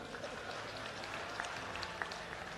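An audience at a Congress political gathering where Navjot Sidhu speaks breaks into sustained applause, a dense, even crackle of many clapping hands filling the whole moment at moderate distance, with a voice faintly audible beneath.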